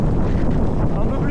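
Wind gusts roar hard against the microphone during a downhill mountain bike run at a bike park in La Plagne, a loud, close, rumbling buffet for the whole moment.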